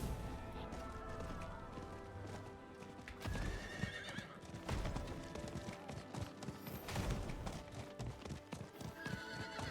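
A horse in Diablo 4 gallops with rapid, steady clip-clop hoofbeats, breaking into a couple of loud whinnies partway through, with game-like background sounds underneath.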